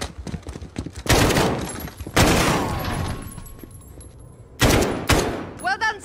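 Bursts of automatic gunfire from an ambush on guards in Call of Duty Modern Warfare (2019), loud and close, coming in several sharp volleys separated by brief lulls.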